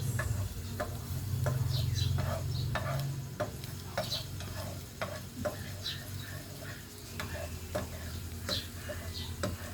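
Food being stirred in a pan during home cooking, with repeated spoon scrapes and taps over a steady frying sizzle, fairly close and moderately loud, with brief voices at times.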